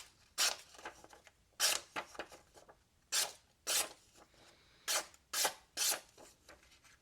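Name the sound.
folding knife blade slicing paper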